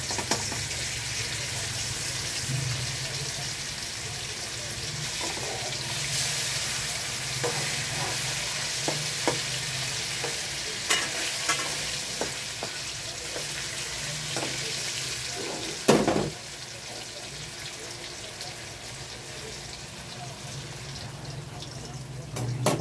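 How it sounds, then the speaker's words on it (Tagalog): Tofu slices sizzle steadily in a hot pan for tofu steak, an even crackling hiss with occasional clinks and stirring, and a sharp louder spatter near the end. "Magpa-fry lang muna po tayo ng tokwa"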